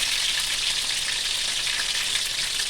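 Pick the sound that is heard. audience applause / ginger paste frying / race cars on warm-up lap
ginger paste frying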